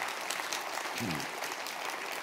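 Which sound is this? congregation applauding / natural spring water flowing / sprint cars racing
congregation applauding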